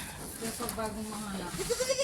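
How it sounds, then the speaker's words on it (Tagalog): Goats on a farm bleat in short wavering cries, close and fairly loud, mixed with a person talking. "Ito nga kambing lagi namin pinadede hapon."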